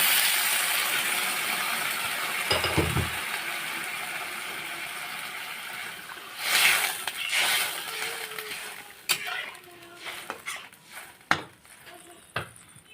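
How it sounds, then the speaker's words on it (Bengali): Water poured into a hot pan of browned potato curry, with a steady rushing hiss for several seconds followed by scattered clinks and clatter of utensils against the pan. "এবার আমি জলটা অ্যাড করে দিই।"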